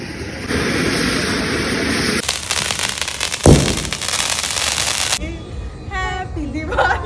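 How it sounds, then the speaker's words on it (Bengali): Firecrackers burst outdoors during Kali Puja celebrations, with long stretches of crackling hiss and one loud bang midway, then the noise thins to distant pops and whistling sounds. "একটু সময় থেকেই আমরা চলে গেছি বাজি ফাটাতে।"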